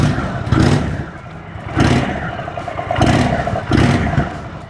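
An Indian Chief motorcycle engine revs in quick bursts as the throttle opens, four distinct rising surges spaced about a second apart over a steady low idle rumble, close and loud with no talk.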